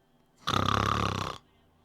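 A voice imitates snoring with one long, loud, rattling snore lasting about a second, in the middle of an otherwise quiet moment during a Dungeons & Dragons session.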